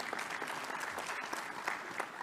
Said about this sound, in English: I'm going to ask you that we clap hands for him